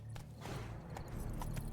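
Horse hooves in the game The Witcher 3, a quick run of soft clip-clop beats over a low rumble, close and fairly quiet, with no talking.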